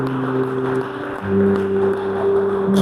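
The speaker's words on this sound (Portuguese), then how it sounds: "Você se assenta aplaudindo a Jesus" A church congregation applauds together in a steady, dense wash of clapping that swells slightly partway through, with sustained keyboard-like tones ringing underneath.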